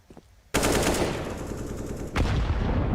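Loud sustained automatic gunfire erupts during a professional Counter-Strike match on the Inferno map, near the top of Banana, with rapid bursts after a short quiet start and a second volley near the end.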